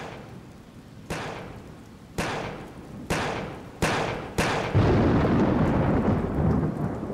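Thunder booms in the Yakuza video game, five sharp cracks arriving about a second apart and each rolling off, followed by a loud, steady downpour of rain that fills the end.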